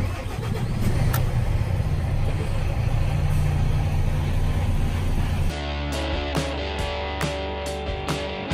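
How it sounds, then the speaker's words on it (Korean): A 2018 Iveco Hi-Way 570 truck engine starts up with a loud, close, continuous roar that drops into a steadier, lower running sound partway through. "뭐 누르고 시동 걸어야 되나?"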